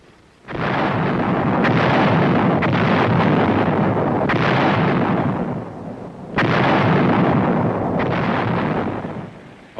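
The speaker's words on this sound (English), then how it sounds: "Then after the big guns have spoken" US heavy artillery guns firing in combat, heard as two long, loud, rolling blasts whose deep rumble and echo fill the whole stretch, with no voices.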